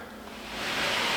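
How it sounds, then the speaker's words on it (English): Wind blows outside through a drain pipe on a very windy day, a soft rushing hiss that swells louder over about a second, close and without voices. "You can hear the wind. It's really windy today."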